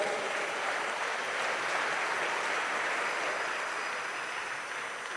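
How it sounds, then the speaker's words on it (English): At a formal Afreximbank presidential address event, the audience gives a steady, even round of applause that holds at a constant level for several seconds, soft and diffuse as if heard from within a large hall. "So may we give another round of applause"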